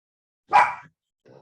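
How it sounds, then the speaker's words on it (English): A dog gives one loud, sharp bark close by, followed a moment later by a much fainter, shorter sound. "Sorry for the loud barking."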